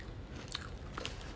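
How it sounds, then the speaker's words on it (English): Quiet crunching bites into crunchy freeze-dried candy, a couple of brittle cracks close to the mouth over a soft background hiss, with no talking. "It's crunchy."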